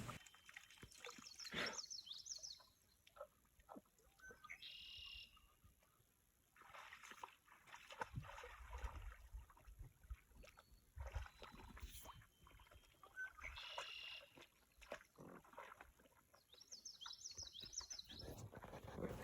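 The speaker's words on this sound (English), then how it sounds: "You can see how I'm paddling, trying to get a little closer to the moose so we can get even a better look." A canoe is paddled across a quiet lake, with soft, irregular paddle strokes, drips and gentle water splashes up close. Occasional faint bird calls sound in the background, and no one speaks.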